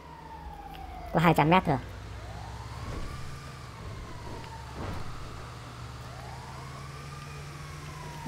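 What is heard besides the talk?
ambulance siren in the video game GTA V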